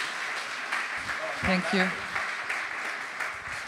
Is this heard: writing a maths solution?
no